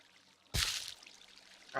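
Water in a Minecraft game gives a short burst of pouring and splashing, then fades to a soft trickle before another gush begins at the end.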